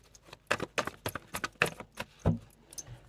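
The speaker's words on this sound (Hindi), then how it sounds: "एक बार शफल करके रख दूँ इनको" Tarot cards are shuffled by hand in a quick series of crisp, close riffling and flicking bursts, about a dozen irregular snaps over a few seconds in a quiet room.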